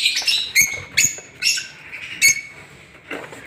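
Lutino ringneck and lovebird pairs chirp in quick, bright bursts, several sharp calls and squawks overlapping at close range in an uneven rhythm.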